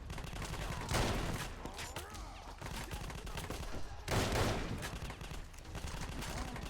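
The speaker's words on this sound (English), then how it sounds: "The firing the guns is super weird in this game for some reason." Heavy, sustained gunfire in Fallout: New Vegas, a dense roar of rapid shots that swells and fades in waves throughout, with no clear gaps.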